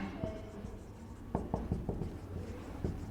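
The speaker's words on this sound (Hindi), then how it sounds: "मैं यहाँ पे लिख रहा हूँ" Chalk or marker strokes on a classroom board make a series of short, soft taps and scratches, irregular and close by, with faint room noise between them.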